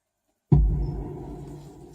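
A hall-echo kick drum sample from Logic Pro sounds alone: one deep, booming hit after half a second of silence, its reverberant tail ringing and slowly fading.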